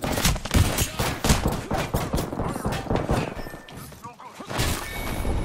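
Dense bursts of gunfire in a battle royale video game rattle almost continuously, with heavy thuds and sharp cracks, while players talk over voice chat.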